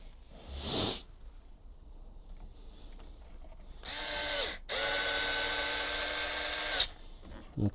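Screws being driven into an HPI Vorza S truggy with a power driver: a short buzzing burst, then two longer whirring runs of the tool, close and loud, separated by quiet handling noises.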